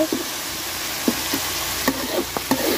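Dried fish (shutki) curry sautéing in a pan, a loud continuous sizzle broken by spoon scrapes and taps against the metal at an uneven pace, close and without speech.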